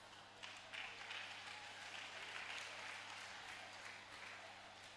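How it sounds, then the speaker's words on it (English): Soft, distant clapping from a crowd continues steadily over a low background hum. "Let's welcome her with a hands of applause."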